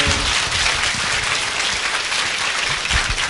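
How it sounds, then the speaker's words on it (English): Steady, dense applause from the audience closing an evening Buddhist Dhamma talk, a continuous wash of clapping at even loudness throughout with no voices. "Let's give a round of applause."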